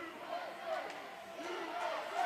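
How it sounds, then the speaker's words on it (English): A hockey championship crowd chants rhythmically in a large arena, the massed voices faint and distant under a steady roar of the stands. "USA chant coming from the crowd."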